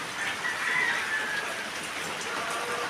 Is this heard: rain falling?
yes